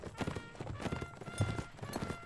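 Horse galloping in a video game battle: rapid, fairly faint clip-clop hoofbeats in a continuous rhythm with no talk.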